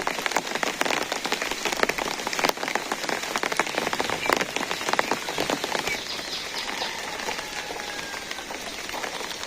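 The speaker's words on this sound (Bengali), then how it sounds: "দেখেন কিরকম বৃষ্টি আর বৃষ্টি" Heavy rain pours steadily onto surfaces, a dense, continuous hiss of drops with sharper splats throughout, loud and close with no voices.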